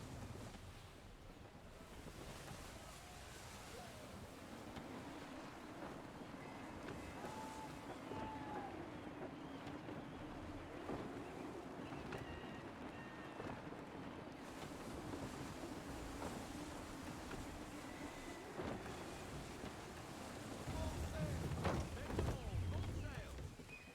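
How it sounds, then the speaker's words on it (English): Steady wind and rushing sea surround a sailing ship in Assassin's Creed 3, a constant broad roar of gusts and waves that swells louder toward the end, with a voice talking over it. "Gusty winds can be difficult to manage."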